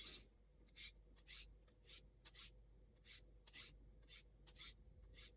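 Knife blade drawn in finishing strokes across a sharpening stone, one pass per side before flipping: about ten short, crisp rasping strokes in a steady rhythm, close and fairly quiet, alone without talk.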